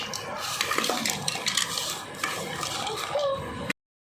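Sweet corn chana being stirred with a spoon in a bowl, giving steady scraping and clinking of metal against the dish with a few sharper taps, close up and continuous with no talking.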